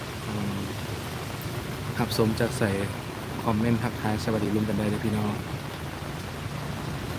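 Steady rain falls in Vientiane, Laos as a broad, even hiss throughout, while someone talks over it in the middle of the stretch.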